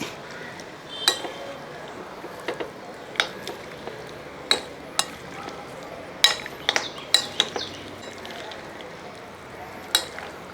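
Beef being stirred into a spice mix in a pan for a dry beef dish, with scattered sharp clinks of a spoon against the pan over a soft background hiss.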